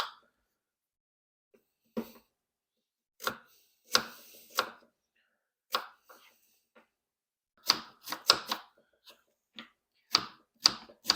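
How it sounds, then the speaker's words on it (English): A knife dices apples on a cutting board in sharp, irregular chops, single taps and quick clusters separated by silent pauses. The sound is close and crisp, with no talking. "So now that we've finished dicing all of our apples"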